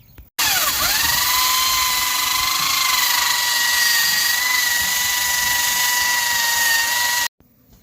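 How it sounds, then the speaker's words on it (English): A wire wheel on a power tool strips rust from the trunk floor of a Mustang, a loud sustained high-pitched whine that spins up at the start and runs steadily for about seven seconds before cutting off abruptly. "going to get the wire wheel and start tearing this up"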